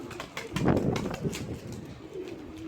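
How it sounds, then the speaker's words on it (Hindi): Pigeons coo in soft, repeated murmurs nearby during rain, with some wing flapping and the steady hiss of rainfall underneath. "बड़े दूर दूर से लंबे लंबे होके ना कबूतर आ रहे हैं।"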